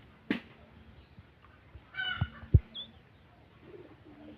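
Pet birds in a home aviary, including ducks and young ducklings, give a few scattered calls and coos, nearby but faint, alongside soft rustling and occasional knocks in an otherwise quiet room.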